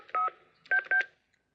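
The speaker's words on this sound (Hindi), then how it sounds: "तू रीटा को जल्दी से फोन कर, वरना सब गड़बड़ हो जाएगी।" Three telephone keypad tones from a 1998 Hindi horror film, one beep followed after a pause by two quick beeps, clear and close in an otherwise quiet background.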